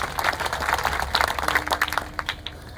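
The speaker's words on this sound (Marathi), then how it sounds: "वा ताई साहेब, धन्यवाद, टाळ्या झाल्या पाहिजे त्यांसाठी." A kirtan audience applauds a woman: a crowd's brisk, dense clapping, moderately loud and fairly close, tapering slightly toward the end.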